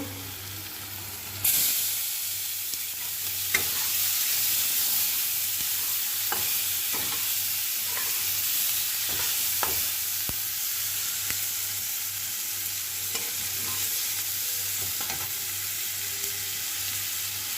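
Chopped onions hit potatoes already frying in a pan, and a loud, steady sizzle starts abruptly and carries on close by, with scattered scrapes and clicks of stirring.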